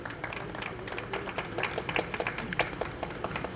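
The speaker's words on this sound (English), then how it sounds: "So let's give them a big round of applause." Audience applause at a firefighter mask donation event, a steady patter of many hands clapping with dense, slightly uneven bursts sustained throughout the short stretch, moderately loud and unbroken by talk.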